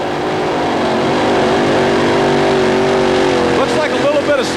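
Robert Elliott's modified tractor, the Fancy Farmer out of Mayfield, Kentucky, with a Keith Black Hemi, roars close and loud on a pull at Anaheim, engine note climbing steadily then wavering near the end.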